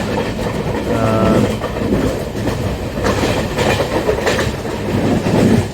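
A passenger train from Aluva to Bangalore passing Angamaly rolls along steadily, its low rumble mixed with faint rhythmic wheel clatter on the rails, heard from inside a carriage.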